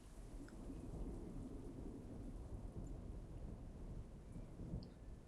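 A thunderstorm in a video game, with a low, continuous rumble of thunder under steady rain hiss, fairly quiet and even, with no voices.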